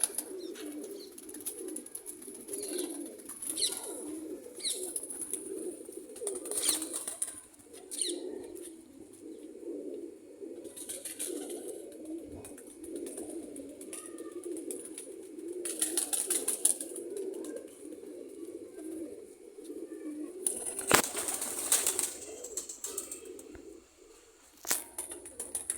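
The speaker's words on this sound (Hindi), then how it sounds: "ये भी बहुत अच्छा कबूतर है" Pigeons cooing in a loft, soft low rumbling coos repeating continuously at moderate distance, with occasional brief wing flaps and chirps mixed in.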